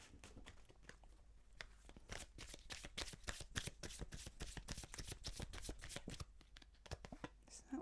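Oracle cards being shuffled and drawn in a rapid run of crisp riffling snaps that carries on for several seconds, moderately close and steady, with a little soft background noise.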